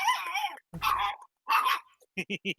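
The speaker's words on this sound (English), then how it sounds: "Sounds like such an overdramatic dog." A dog in a World of Darkness: Vampire the Requiem game session gives four short, loud barks in quick succession near the end, after a stretch of voices.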